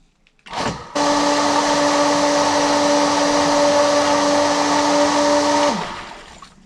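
Electric water pump on a homemade rainwater collection system switching on after a brief click, then running with a steady, loud motor whine and hum for about five seconds before winding down.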